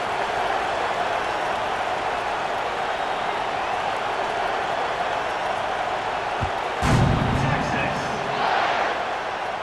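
Steady broad roar of a stadium crowd at kickoff in the College Football 26 video game, swelling slightly with a thump and brief louder surges toward the end.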